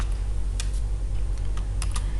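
A computer keyboard being typed on, giving sparse, light key taps over a steady low background hum, a few isolated presses and a quick double tap near the end.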